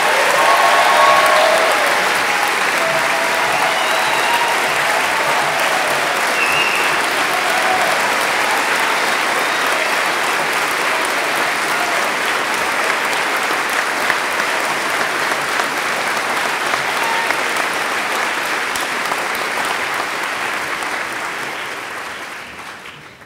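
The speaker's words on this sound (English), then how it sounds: "I had written here to stand up and give applause to John" Sustained applause from a crowd at an outdoor climate rally in Kansas City, steady and full for over twenty seconds before tapering off at the end.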